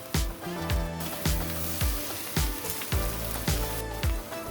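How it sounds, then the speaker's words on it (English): Onions stirred and frying in a pan for beef stroganoff, a steady sizzle broken by about seven regular scraping strokes of the spoon, close up with no talking. "And you're gonna keep on stirring until these onions get soft."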